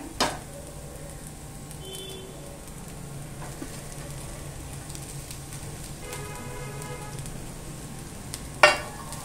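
Grated fresh coconut roasting in a pan with onion and garlic for a traditional Konkan dish, a steady soft sizzle throughout with a few sharp utensil clinks near the start and end.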